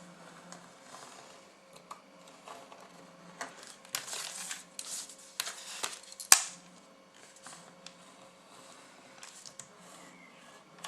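Scissors cut around cosplay craft material in short, crisp bursts of snipping and rustling, with one sharp snap. The sounds are close and not loud, and there is no talking.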